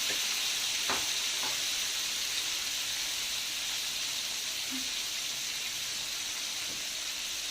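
Alexandrian-style liver frying with garlic in a hot pan gives a loud, steady close sizzle with a few faint clinks of a utensil, and no one speaks.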